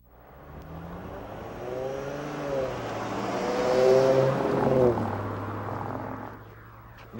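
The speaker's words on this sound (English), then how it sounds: "The sound of a car crossing the edge line of a roadway and encountering a rumble strip." Car tires cross the edge line of a roadway onto a rumble strip, making a loud droning buzz. The vibrating hum swells over several seconds, peaks, then fades as the car rolls back off.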